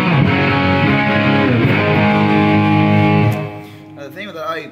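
Overdriven electric guitar through a Way Huge Green Rhino overdrive pedal with the drive all the way up, thick sustained chords ringing out loud, then a softer, wavering lick near the end.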